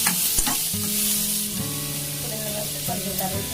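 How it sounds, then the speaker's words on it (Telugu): Chopped onions and green chilies fry in oil in a pan, a steady close sizzle with occasional stirring scrapes throughout, and no talking. "పచ్చిమిర్చి ముక్కలు వేసుకొని వేయించుకోవాలండి."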